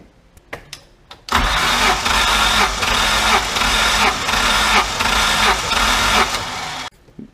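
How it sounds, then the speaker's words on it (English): A MerCruiser boat engine is cranked over for a compression test, a loud, steady, rhythmic chugging that runs for about five and a half seconds after a few faint clicks, then cuts off abruptly. "So we're going to pop this on, turn this engine over, and get some numbers."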